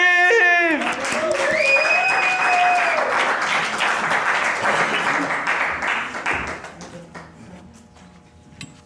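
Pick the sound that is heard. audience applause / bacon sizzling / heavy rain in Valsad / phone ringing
audience applause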